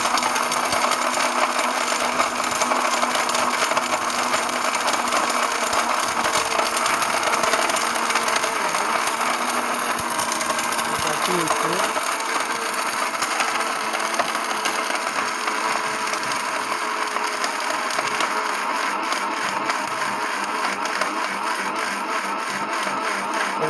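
An 850 watt mixer grinder runs steadily on speed one as it grinds whole turmeric, giving a loud, continuous motor whine with a rattling roar that holds unchanged for over twenty seconds.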